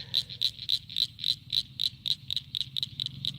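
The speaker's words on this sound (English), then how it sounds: "I don't know if you can hear that, but them frogs are going crazy." A rapid, rhythmic high-pitched trilling chorus pulses steadily without pause, like frogs calling in the night, with no voices.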